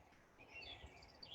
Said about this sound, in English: it's the sound of different birds